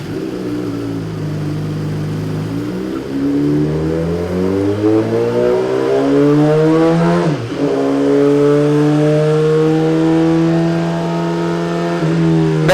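2017 Suzuki GSX-R1000 motorcycle on a dyno revs up through rising engine pitch, drops sharply at a gear change around midway, then climbs again, loud and continuous with no talk.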